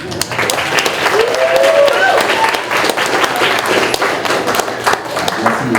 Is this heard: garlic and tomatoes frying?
no